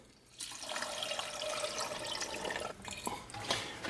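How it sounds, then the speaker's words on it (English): Vinegar is poured into a jar in a kitchen while bologna is being made. A steady, gurgling liquid stream runs for a few seconds, fairly quiet and close, with no talk over it. "So we're going to add the vinegar in."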